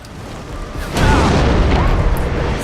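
Explosive arrow blast in the video game Far Cry 4: after a quieter lead-in, a loud deep boom bursts about a second in and rolls on as a thick rumbling roar, no talk over it.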